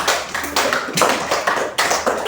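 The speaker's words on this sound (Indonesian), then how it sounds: "Kasih tepuk tangan lagi." A small group of classroom students claps in uneven, rapid bursts, sharp close taps rising and falling for a couple of seconds with no talking.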